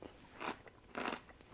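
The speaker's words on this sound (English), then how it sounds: "So this sauerkraut is really crispy. It's got a nice crunch to it." Crunchy homemade sauerkraut is bitten and chewed close to the microphone, two loud crisp crunches about half a second apart with softer chewing crackles between and after.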